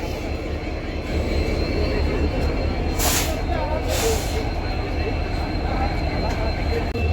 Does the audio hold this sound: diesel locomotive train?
yes